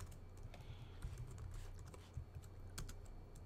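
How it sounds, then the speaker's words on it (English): Steady computer keyboard typing while writing code, a quiet run of soft, closely spaced key clicks with a few sharper taps, heard alone without talk. "I'm actually amazed I've been typing so well."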